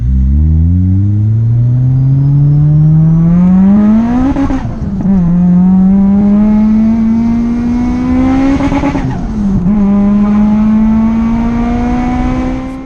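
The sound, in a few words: supercharged Toyota Celica 190 VVTL-i engine revving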